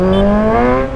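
A large sport motorcycle engine revs hard as riders pass, a loud, close whine whose tone climbs steadily as the throttle opens, then briefly dips at the end.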